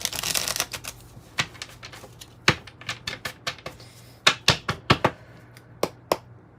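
Tarot cards shuffled close up: a quick riffling burst, then a string of irregular sharp taps and snaps as the deck is handled, no voices.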